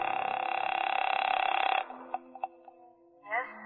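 A telephone in an old radio drama, a buzzing tone holding for nearly two seconds, then a few sharp clicks and taps of dialing, with a voice starting at the end.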